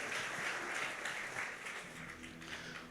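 A church congregation applauds its praise team, a steady wash of many hands clapping at moderate distance that thins slightly toward the end.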